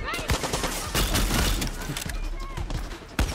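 Dense gunfire rattles through a Far Cry 6 battle, with rapid overlapping shots and bursts running throughout, loud and close, while voices talk over the shooting.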